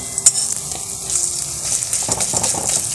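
Pumpkin flower fritters frying in hot oil, a steady dense sizzle with a few sharper crackles and bubbling bursts, close and fairly loud, with no talking.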